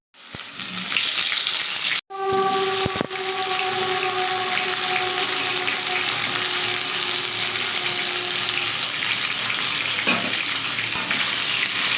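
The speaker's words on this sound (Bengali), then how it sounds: "এবার আলুগুলোকে আমি লাল লাল করে ভেজে নিই।" Potatoes dropped into hot oil seasoned with cumin and bay leaf, a loud, dense sizzle that bursts in and keeps roaring steadily, with a brief clatter early on and a faint tonal ring fading out, no voices.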